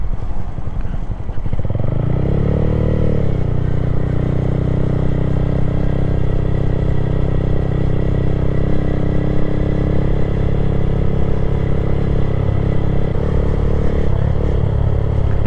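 A Honda Grom motorcycle cruising along a country road, its small engine revving up briefly near the start, then holding a steady, loud, close drone with slight pitch shifts throughout.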